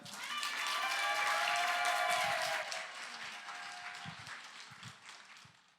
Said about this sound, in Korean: 큰 박수로 함께 만나보도록 하겠습니다.